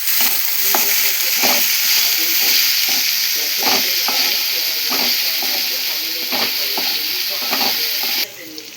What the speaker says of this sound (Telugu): సో అల్లం పేస్ట్ ఇంకా సాల్ట్ మంచిగా మిక్స్ అయ్యే వరకు కలుపుతున్నాము.